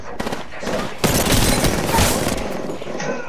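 Rapid bursts of automatic gunfire crackle in an Apex Legends match with squads fighting, a short volley, a brief gap, then a longer sustained loud fusillade that tapers off.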